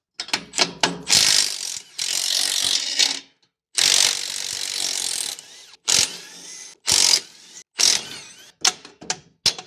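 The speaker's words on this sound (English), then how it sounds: "U-bolts for the front coming off." A ratchet wrench loosens the front U-bolts from a leaf spring, giving close, loud bursts of rapid clicking in several runs of differing lengths with short breaks between them.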